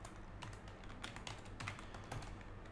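Rapid, uneven keystrokes on a computer keyboard while code is written, crisp clicks close up in quick bursts with short gaps, and no voice.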